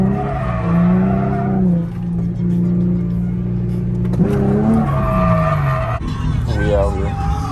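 A drift car slides and revs at a Lock City drift event in April 2021. A loud, sustained engine drone shifts pitch as the car accelerates, with squealing tires layered over it, and voices can be heard faintly in the background.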